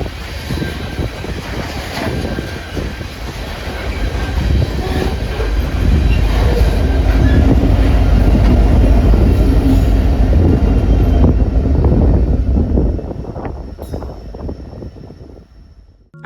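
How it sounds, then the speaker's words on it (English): A loaded southbound coal train with MRL 4305 as a distributed power unit rumbles past up close, with a heavy, steady roar, clacking wheels and faint squeals, before fading away. "I get jump scared to see MRL 4305 as a DPU on a southbound loaded coal train."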